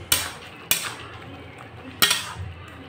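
A metal lid set down onto a pot of tomato and jaggery chutney gives three sharp clanks, two close together and one after a short pause, close by and with no voices.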